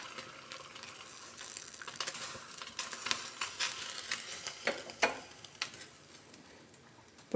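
A pot of oats soup with vegetables simmers and foams up on a stove, heard as soft, irregular bubbling and faint popping ticks. The sound is quiet and close, with no voices.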